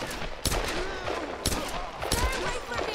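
Enemy gunfire in the 2013 Tomb Raider video game: a few loud, sharp shots that crack out at irregular intervals over a busy background of game sound.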